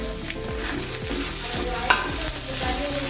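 Adamant creeper with tamarind and salt being sautéed in a pan, a steady bright sizzle with a spoon or spatula scraping and stirring in a repeating rhythm, close and fairly loud with no talking.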